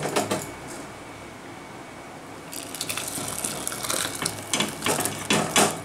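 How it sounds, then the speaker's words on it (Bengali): Moong dal and drumstick pieces poured into a cooking pot for a Bengali vegetarian dal, a watery splashing and sloshing that starts after a quiet pause and builds in bursts toward the end, close and moderately loud with no talking. "এবার আমি হাঁড়ির মধ্যে এটা ঢেলে দেবো"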